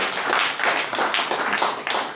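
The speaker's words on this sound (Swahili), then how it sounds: "Pigia Mungu wetu makofi." Church congregation clapping hands in praise to God, a dense, loud, steady wash of many hands applauding together.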